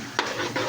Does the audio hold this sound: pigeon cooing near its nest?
no